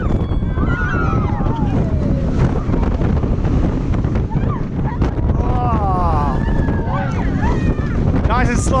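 Ride on the Blue Fire roller coaster at Europa Park on a cold December day: a constant loud roar of rushing wind and rumbling track, with riders shouting and whooping over it.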